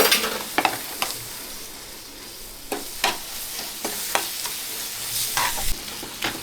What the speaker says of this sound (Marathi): हे वाटण मस्त असं मिक्स करून घेऊया आपण.